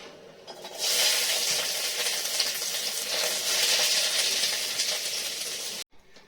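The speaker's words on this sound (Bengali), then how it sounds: "আর এই মশলাগুলো এখন ভাজবো" Spices hit hot oil in a home kitchen pan, bursting into a loud, steady sizzle that starts about a second in, holds evenly for several seconds, then cuts off abruptly.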